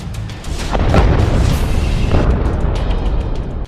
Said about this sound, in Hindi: सामने खड़े आईडीएफ के टैंक पर यह रॉकेट फायर कर देता है, जिसमें बहुत बड़ा धमाका होता है